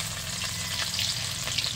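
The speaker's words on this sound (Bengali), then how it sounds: "তেল গরম হয়ে এসেছে, দিয়ে দিচ্ছি রসুন কুচি" Chopped garlic hitting hot oil for chow mein, a dense, even crackling sizzle close up with a few brief stirring scrapes.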